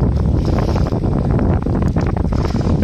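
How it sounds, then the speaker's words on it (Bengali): Strong storm wind on the Garhal river, roaring steadily and loudly against the microphone from a rowing boat, a dense rushing noise with no talk. "হাওয়া হচ্ছে প্রচুর আজকে।"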